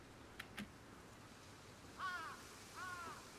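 Crows caw in the BOKURA video game, two faint harsh calls spaced about a second apart over a quiet background, after a couple of soft clicks.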